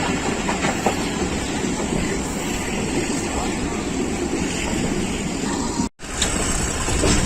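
Hazara Express, a Pakistan Railways passenger train, rumbles steadily along the rails after leaving Jhelum, a loud continuous roar with faint rhythmic clatter and a brief dropout near the end.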